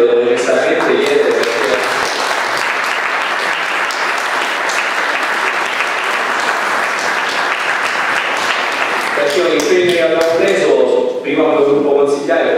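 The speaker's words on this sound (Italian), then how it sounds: "io un applauso per il mio collega Giuseppe Verardi, lo devo necessariamente chiedere." Audience applause at an Italian book presentation, a long dense burst of clapping that fills the room steadily, with voices audible over it near the start and again toward the end.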